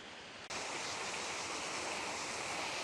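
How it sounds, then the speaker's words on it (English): Water from a garden waterfall at a public garden plaza pours in a steady, even rush that starts abruptly and continues without a break, moderately close. "this is the one that includes the awesome waterfall"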